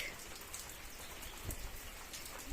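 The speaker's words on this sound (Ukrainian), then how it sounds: "Дивіться, налило добряче. Я думаю, що в деяких регіонах теж йде такий дощ." Heavy rain falling outside a countryside home, a dense, steady hiss of downpour with scattered louder drops striking nearby surfaces, continuous and close throughout.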